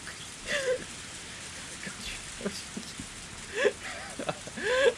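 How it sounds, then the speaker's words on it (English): Heavy rain hisses steadily in the visual novel Higurashi When They Cry Kai, and a few faint voice-like sounds rise above the downpour now and then. "It's still raining hard, but the distant horizon is a little lighter."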